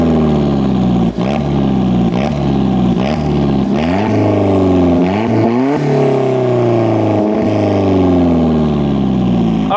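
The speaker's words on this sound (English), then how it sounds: "let's get the camera outside and do some revs" An Alfa Romeo 4C fitted with a Capristo exhaust is revved repeatedly outdoors, each sharp blip flaring up and dropping away in a quick series of loud, close bursts with no talking.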